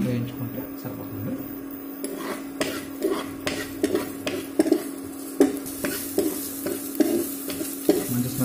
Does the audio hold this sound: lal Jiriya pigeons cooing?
no